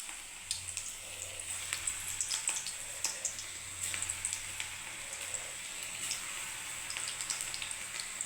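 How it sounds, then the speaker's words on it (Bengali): Lentil fritters (dal bora) frying in hot mustard oil, a steady soft sizzle with scattered small crackles and pops running throughout, fairly quiet and close, with no voices. "বড়াগুলোকে ছেড়ে দিচ্ছি"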